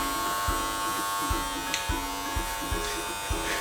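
Electric hair clippers buzz steadily at close range during a home haircut, with periodic tapping and strokes against the head and people talking in the background.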